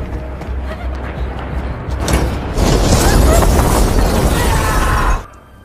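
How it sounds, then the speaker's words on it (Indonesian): A heavy, rumbling blast from a drone attack on a building builds and swells into a prolonged roar of debris and crackling before cutting off abruptly. "mencoba berlindung dari ledakan dalam sebuah gedung"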